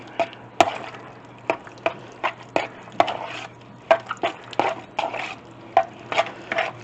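Sour cream being stirred into a cheesy beef and potato casserole, with repeated close scraping and clinking of a utensil against the dish in an uneven rhythm.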